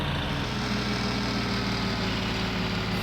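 A tractor engine runs steadily at a constant low rumble, close and continuous with a dense mechanical drone and no change in pace, with no voices over it.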